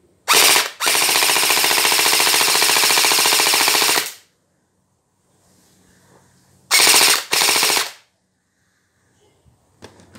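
A Gen 8 gel blaster with a metal alloy barrel and silencer fires a long, loud sustained burst of rapid shots, then falls silent before two shorter bursts follow.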